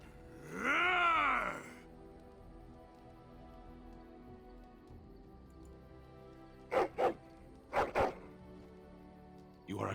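A dog in the video game Dragon Age Origins gives a loud drawn-out groaning bark, then after a pause several short, sharp barks in quick pairs, with a final bark at the end.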